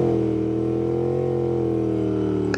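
A Royal Enfield Interceptor motorcycle with an S&S cam and Revelry Racing intake holds a loud, steady high-rev engine drone close by, bouncing against the rev limiter with no one talking.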